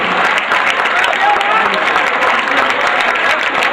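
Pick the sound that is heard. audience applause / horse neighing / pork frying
audience applause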